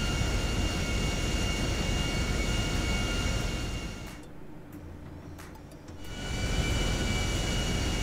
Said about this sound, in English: you will start to take off from the airport, Los Santos International Airport, and the plane will start to fly all the way out to Vicecrag